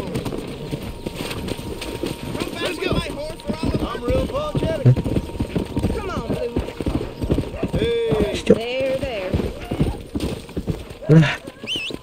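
Horse hooves clip-clop in Red Dead Redemption on PS5, a rapid continuous trot beneath game sounds and someone talking excitedly, with a brief neigh near the end.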